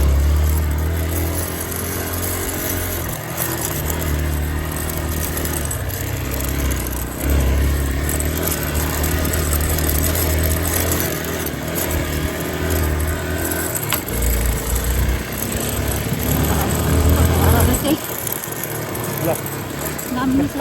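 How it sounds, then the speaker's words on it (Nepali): A motorcycle rides a rough mountain road toward Ghandruk, its engine droning steadily and loudly up close with rattling clatter, while a voice talks over it throughout. "यस्तो बाटोमा चाहिँ हाम्रो मोटर बाइक ठिक छ।"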